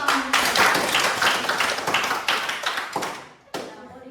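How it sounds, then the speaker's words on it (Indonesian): A classroom of students claps together in a brisk burst of applause that fades out, then a short final spatter of claps, close and fairly loud with voices faintly mixed in. "Oke, mantap, kasih tepuk tangan."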